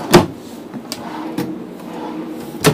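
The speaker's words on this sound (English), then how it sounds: "Also, full extension drawers." Full-extension drawers in a 2007 Itasca Suncruiser motorhome kitchen open and close with sliding clatters and a few sharp knocks at the start and end, heard alone and up close.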